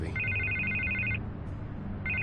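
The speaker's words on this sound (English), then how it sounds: "I can't get the phone to stop ringing." A telephone rings loudly in Batman: The Telltale Series, a long electronic trilling burst that pauses, then starts again, over a low background score.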